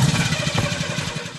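A female character's vehicle engine in Friday the 13th: The Game, running rough with a loud rattling idle that pulses rapidly and evenly, close and alone.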